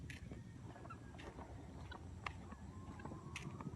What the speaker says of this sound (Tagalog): Gansa at saka pabo.